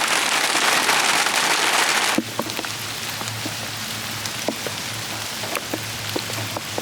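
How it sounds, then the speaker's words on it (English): Steady rain hisses heavily at first, then eases into a softer patter with scattered individual drops tapping nearby. "Hopefully the rain will stop and I can continue outside."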